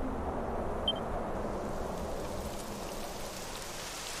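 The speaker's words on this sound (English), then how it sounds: "It would have to go and start raining, wouldn't it?" Rain begins falling in the video game Dragon Quest 11, a steady, even hiss of downpour that stays constant throughout, with no voices over it.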